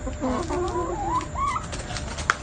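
A chicken clucks nearby outdoors in a short run of soft, rising and falling clucks, with a brief sharp sound at the end.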